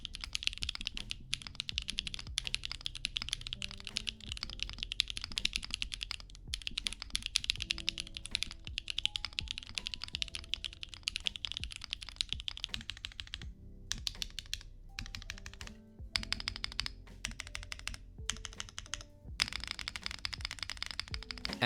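Close, steady typing on a QK Duo Alice mechanical keyboard: quick clacky keystrokes with frequent deeper spacebar thocks, running through brief pauses, with no voices.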